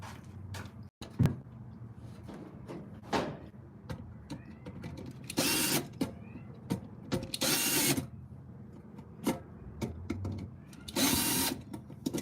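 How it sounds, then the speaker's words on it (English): Quiet indoor clicks and rattling as a screwdriver works on the arm of a ceiling mount, with bursts of brief whirring or scraping spread irregularly between the taps. "Screwdriver."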